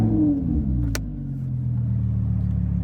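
A Lamborghini Huracan engine fires up with a sharp start and a loud revving roar that settles into a deep, steady idle rumble, close by with no talking.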